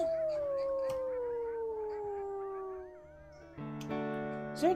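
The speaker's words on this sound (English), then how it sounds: "And howling." A wolf in the video game WolfQuest AE gives a long, clear howl that slowly glides downward in pitch. Near the end, other wolves join in with layered howls and yips.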